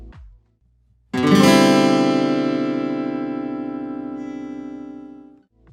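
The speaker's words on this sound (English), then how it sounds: "Versus our replacement slash chord, which sounds like this." One strummed guitar chord, a five-over-seven slash chord, rings out clearly and sustains, fading gradually over about four seconds before a faint sound at the very end.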